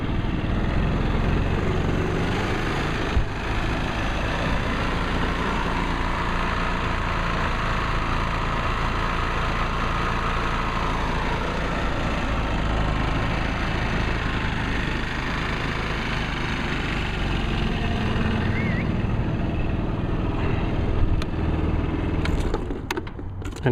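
A Tao-Tao Lancer GY6 150cc Chinese scooter engine idles with a steady, loud, even drone throughout, close by and without talk.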